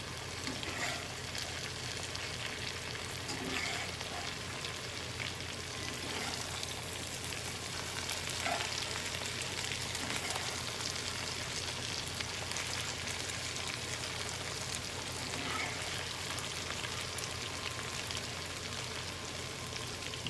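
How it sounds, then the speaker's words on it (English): Okra fries in a pan, a steady, dense sizzle running the whole time, with occasional soft scrapes and pops as the pieces are turned; no voices. "it's time to turn this okra, and you can see it's getting brown on the bottom"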